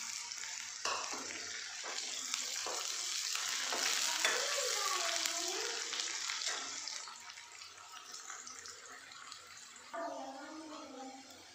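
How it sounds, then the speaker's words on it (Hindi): Onion frying lightly in a pan gives a continuous bright sizzle that swells and fades, with a few stirring scrapes and knocks, close by and without talk. "ये देखिए, अनियन मेरी हल्की सी भुन गई है"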